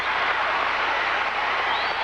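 Steady applause from an arena crowd at the 1984 US Olympic Trials for women's artistic gymnastics, a broad continuous clapping wash that fills the whole stretch without pause.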